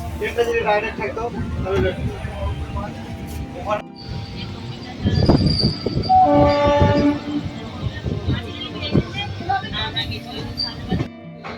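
A passenger train rumbles and rattles along steadily, with a horn sounding partway through and people talking over the noise.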